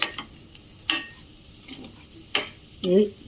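Fried potatoes tossed with salt in a pan make a few separate scraping and clinking stirs over a quiet background, with a short, soft sizzle between the strokes.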